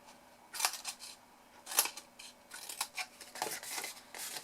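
Scissors cut wedges from scored and folded paper for a DVD gift box, giving a close series of crisp snips and paper rustles in quick irregular bursts.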